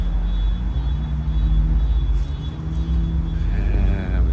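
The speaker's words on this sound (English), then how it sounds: "looks like the two-stepping has started" Cars two-stepping at a night street car show among lined-up BMWs, a Charger and a Civic: a steady, close, heavy engine rumble with a loud low drone throughout and rising tones near the end, with no talk.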